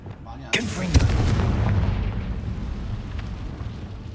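A Confringo blasting spell cast in Hogwarts Legacy, heard as a sharp fiery burst followed by a heavy rumbling explosion that fills the rest of the moment, loud and close.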